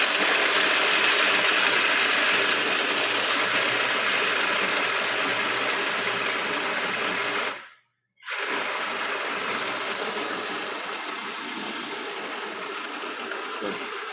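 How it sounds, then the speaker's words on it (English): Sugar is ground into a paste with a steady, loud mechanical grinding whir that cuts out briefly midway, then resumes and continues evenly. "So you want to kind of grind that up to make a paste"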